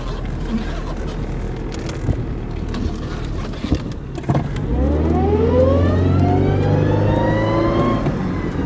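An old, solid-running car engine revs up and then holds a rising, strained whine while backing up in reverse, loud and close over background rumble.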